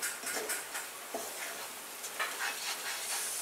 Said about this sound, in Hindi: इसे भी अच्छे से हम तेल में होने देते हैं। अब मैं गैस बढ़ा कर रही हूँ।